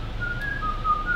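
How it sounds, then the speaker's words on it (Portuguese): A person whistles a tune from a Disney cartoon, a short clear melodic phrase of a few notes, close and fairly quiet, alone without talk. "E então é apito"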